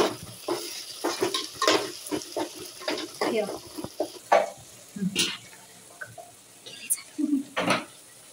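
Coarsely pounded ginger-garlic paste sautéing in a pan for a Malvani chicken curry, with a light sizzle and scraping, clinking strokes in uneven bursts, plus a brief low voice.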